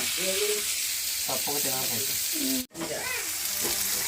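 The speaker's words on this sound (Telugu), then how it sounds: "ఇంకా చట్నీ కూడా ఫ్రై అవుతా ఉంది" Chutney ingredients fry in a pan with a steady, close sizzle, while a voice talks over it almost throughout, with one very brief break.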